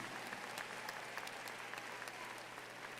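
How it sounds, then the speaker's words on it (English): A commencement audience at a 2026 undergraduate graduation claps steadily for the graduates' parents and grandparents, a fairly distant, even wash of applause with sharper individual claps scattered through it. "Let's start clapping for your parents and grandparents and"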